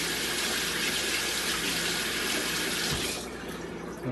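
Steady stream of tap water running into a kitchen sink while potatoes are rinsed, a continuous close hiss that softens slightly toward the end, with no talking.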